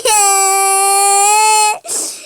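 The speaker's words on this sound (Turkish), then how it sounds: "Anne bir ağlama sesi duydum Selim" A child's loud, sustained wailing cry from the home life game My Play Home Plus, one long tonal note breaking off into a shorter sobbing gasp, heard alone.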